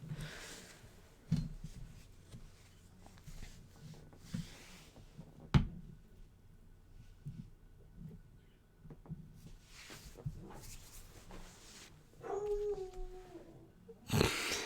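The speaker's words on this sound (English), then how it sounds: "a hound who only knows how to howl" A pet hound howling and whimpering indoors, intermittent drawn-out yowls and whines spread across the stretch with a rising howl near the end, fairly faint and close.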